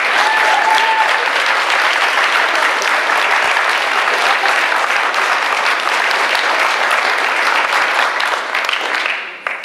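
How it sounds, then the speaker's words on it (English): Audience applause for students at a presentation camp in Canton, loud, dense and steady for nearly ten seconds before tapering off at the very end. "And can we get one last round of applause for all the students?"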